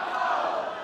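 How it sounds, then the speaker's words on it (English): Supportive crowd cheering loudly for a fighter at an amateur MMA event, a brief sustained roar of voices. "The crowd is firmly on his side."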